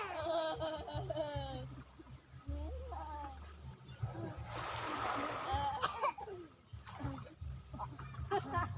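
A person jumps into clear sea water with a splash midway after chatter and a voice, followed by more talk and small splashes.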